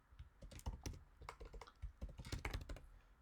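Rapid, uneven clatter of keys on a computer keyboard, a close and fairly quiet burst of typing with irregular bursts and short pauses, heard alone.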